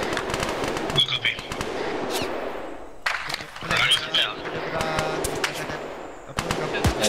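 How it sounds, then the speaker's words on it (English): Close, sharp gunshots crack out several times at irregular intervals, each followed by a brief echoing tail, with a steady background rumble and faint voices. "that shot sounds so close, man"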